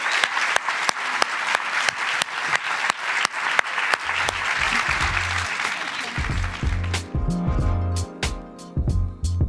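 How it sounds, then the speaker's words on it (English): A live audience at SXSW Sydney claps loudly and steadily with sharp individual claps standing out, then the applause fades under music that comes in partway through. "Please give a big round of applause to our iconic marketers"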